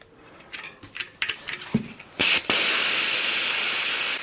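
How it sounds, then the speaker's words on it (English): Air hisses loudly and steadily from the tire valve of a vintage Trek bicycle, beginning abruptly after a few soft handling clicks and taps and continuing as a sustained close rush. "Let some air out of these tires."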